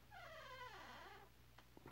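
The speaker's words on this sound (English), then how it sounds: "My cat is at my door right now," A pet cat at a bedroom door gives a drawn-out, wavering meow-like cry that rises and falls, faint and close, followed by a few soft scratches or taps.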